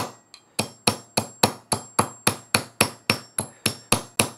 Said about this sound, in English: if you hold it just above the work and hammer it